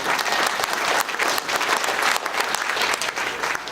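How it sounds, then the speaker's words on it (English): Audience applause at a panel discussion for an exhibit on Jewish refugees in Shanghai: steady, dense clapping from a room full of people, continuous and fairly loud throughout. "So applause for Manny and Helen."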